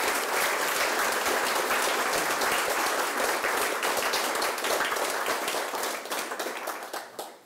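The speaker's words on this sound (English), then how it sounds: "we'll give her another round of applause" Enthusiastic crowd applause at a university awards ceremony, bright dense clapping from many people that stays strong before gradually thinning and fading toward the end.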